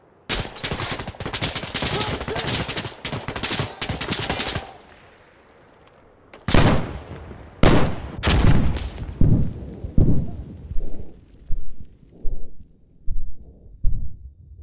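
Bursts of loud gunfire in Insurgency: Sandstorm crack out in rapid clusters, then a steady series of heavy single shots booms at regular intervals, with a thin high whine lingering.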